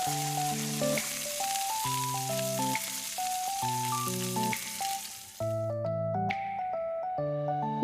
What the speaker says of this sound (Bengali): তেল গরম হলে কপি এক একটা করে ব্যাটারে ডুবিয়ে ভেজে নেব।